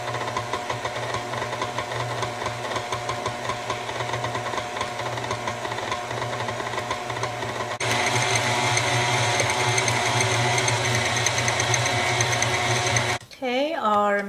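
An electric mixer churns flour dough, a steady mechanical whir with a low hum that grows louder and busier partway through, then stops abruptly near the end.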